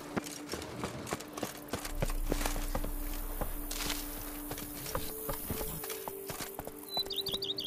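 Hooves of the horse Roach clip-clop steadily as it runs in The Witcher 3 video game, a soft rhythmic patter under game ambience and music tones, with no speech.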